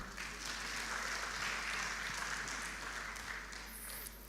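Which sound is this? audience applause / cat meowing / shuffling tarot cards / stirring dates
audience applause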